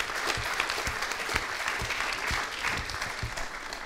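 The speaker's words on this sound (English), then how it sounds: "So please do clap all of our new pledges." A conference audience at a vegetable summit gives sustained, fairly close applause, many hands clapping in a dense, even patter with no talk over it.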